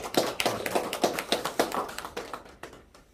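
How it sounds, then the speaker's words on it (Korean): A lecture audience gives thanks to a retired professor with a short round of applause: light, fairly steady hand claps from a modest crowd that start together and then thin out and fade. "권영환 교수님 강의해 주셨는데 감사의 박수 한번 드리겠습니다"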